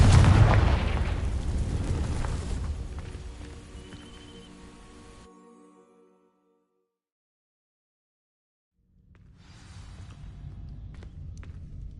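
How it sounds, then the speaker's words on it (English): Confringo fire spell bursting into dry vines in a Harry Potter video game, a loud deep blast that fades into a rumbling burn and then silence before quieter game ambience returns. "These dry vines are one spark away from becoming kindling. Confringo!"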